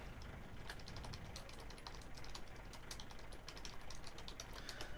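Computer keyboard typing during a World of Tanks match, a faint steady patter of quick key clicks under low game background noise, with no talk.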